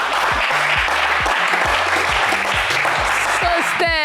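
Dense, loud applause from a TV game show studio audience fills the clip continuously, with brief electronic musical stings underneath.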